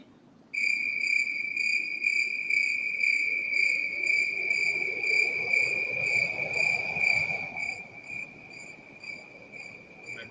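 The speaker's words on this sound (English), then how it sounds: "Crickets." Synthesized cricket chirps made in Ableton Live form a steady, high, pulsing trill that is loud and continuous for about seven seconds, then thins out toward the end. There are no voices.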